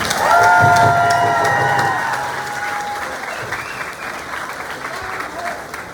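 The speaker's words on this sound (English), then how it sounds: "Give another round of applause," A crowd at an outdoor recovery walk event applauds and cheers, loudest in the first two seconds with a few whoops, then tapering into lighter sustained clapping.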